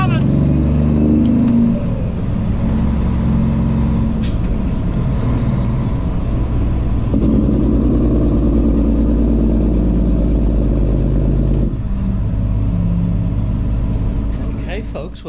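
A Peterbilt 379 truck's Cummins-sounding diesel engine roars through Dynaflex 7-inch straight pipe stacks, a loud deep idle with revs rising and settling several times across the span.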